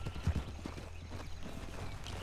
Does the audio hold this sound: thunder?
no